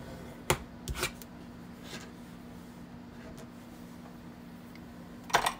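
Cardstock folded in half into a card base, then creased with a bone folder: a few quiet papery snaps and short scraping rubs, separated by near-silent stretches, close and faint.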